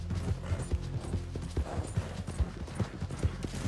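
A horse gallops in Red Dead Redemption 2, its hooves pounding in a steady, driving rhythm, close and prominent, with faint mechanical rattling underneath and no talking.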